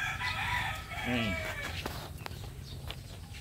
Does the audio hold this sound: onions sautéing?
no